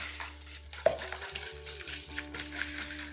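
Banana cake batter made with oil and eggs being stirred by hand while leftover banana chunks are broken up, giving soft, quiet wet stirring and scraping with an occasional light clink of utensil against bowl.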